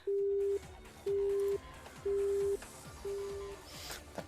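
Telephone busy tone after a call is hung up: four evenly spaced beeps, each about half a second long with equal gaps, the last one quieter, heard alone.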